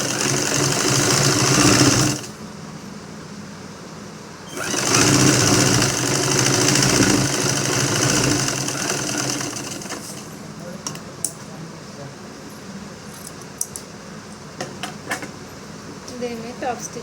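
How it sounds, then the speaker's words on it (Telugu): A sewing machine top-stitching a blouse lining runs in two loud, steady bursts of fast whirring stitching, then stops and leaves quieter handling clicks. A voice talks during the clip. "దీన్ని టాప్ స్టిచ్ వేసుకుంటే"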